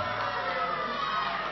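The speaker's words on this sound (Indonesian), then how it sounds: "Silakan tepuk tangan dulu." Crowd at an outdoor campaign event cheering and clapping, a dense steady roar of many voices and hands filling the whole moment without a break.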